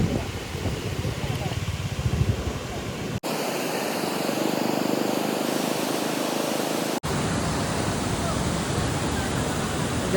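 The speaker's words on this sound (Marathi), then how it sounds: "पाऊस पडायला लागला बा" Rain pours down outdoors in a steady, loud, broadband hiss that keeps going for the whole stretch, with a brief dropout in the middle where the wash briefly cuts.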